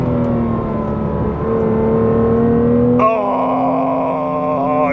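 A Porsche engine accelerating hard around the Blyton Park circuit, loud and close, its steady rising drone breaking into a sharper, higher-pitched rev at about three seconds and holding there.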